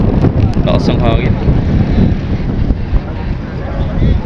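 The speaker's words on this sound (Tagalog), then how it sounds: "Lakas ang hangin." Strong wind buffets the microphone on a crowded ferry dock where a large passenger ship arrives from Masbate, a loud continuous roar with voices talking underneath.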